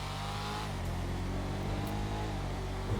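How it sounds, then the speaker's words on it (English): A turbocharged sports car in GTA Online accelerates hard, its engine a steady, rising harmonic drone with a faint turbo whine behind it, close and continuous with no talk. "You can definitely hear the turbo in the background."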